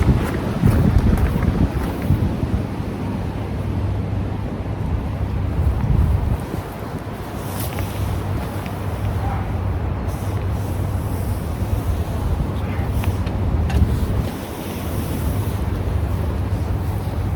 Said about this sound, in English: it's going to have to be able to withstand that wind and dig into the ground a bit